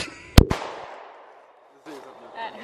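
A gun fired at a target on a farm gives one sharp, loud shot with a second report close behind, then a long fading echo off a barn, followed by quiet voices talking.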